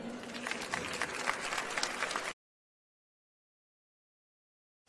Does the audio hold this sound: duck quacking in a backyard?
no